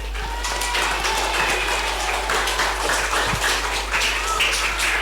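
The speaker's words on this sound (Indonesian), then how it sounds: "Ya, tepuk tangan buat semuanya." Students applauding at a primary school Isra Mi'raj commemoration, a dense, even wash of many hands clapping that holds steady throughout at a fairly loud level.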